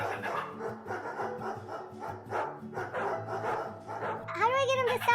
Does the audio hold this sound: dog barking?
yes